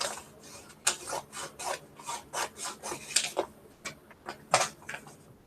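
Fabric for a Dear Jane corner quilt block is roughly cut out, giving close, repeated rasping strokes in an uneven rhythm with no talking.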